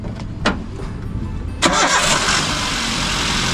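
A Toyota Avanza G with a 1.3-litre engine cranks and catches, then settles into a steady, close idle after a couple of brief clicks, with no talk over it.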